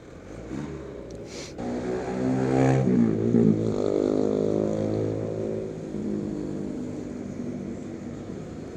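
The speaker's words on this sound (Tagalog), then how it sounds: "Kaligabok ng motor." Yamaha Aerox V2 scooter with a stock engine revving up from idle, a buzzy drone that swells and then settles back, close and moderately loud with a rattly edge.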